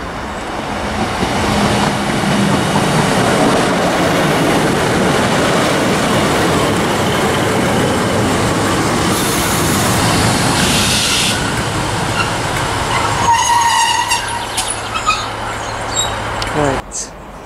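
A class 156 diesel train, unit 156442, pulls into a station near Barrhead on a Glasgow Central service, a loud sustained rumble and rolling wheel noise that slows, then hisses and clicks as it stops.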